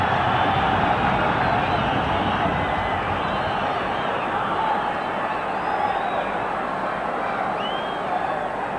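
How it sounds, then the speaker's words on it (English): A football stadium crowd stirs for a Scotland corner kick against Switzerland in a Euro qualifier, making a dense, steady roar with scattered whistles and shouts from far off. "And this has roused the crowd now."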